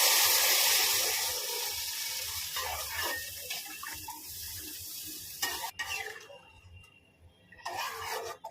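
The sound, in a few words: water poured into a pan of frying potatoes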